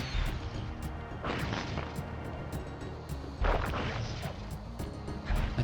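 Shots bursting against destructible floor tiles in Sly Cooper, a series of sharp cracking impacts and crumbling smashes, a few seconds apart, over a low rumbling game backdrop.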